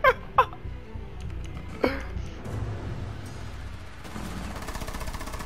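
Single-fire shots ring out in Rainbow Six Siege as two quick sharp cracks and then a third, close and loud, followed by ongoing in-game ambience and movement.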